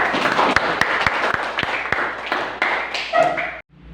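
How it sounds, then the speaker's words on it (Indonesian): Students in a school classroom during a Pancasila civics lesson clap together, with loud, fairly rhythmic claps close by for over three seconds before it stops abruptly. "tepuk tangan semuanya."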